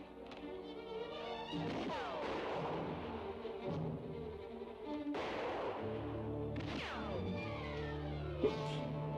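Gunfire and explosions in a World War era shooting video game, several sharp bursts and booming blasts over a dense music and effects bed at low level.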